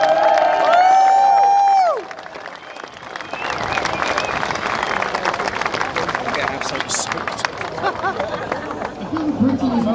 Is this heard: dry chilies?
no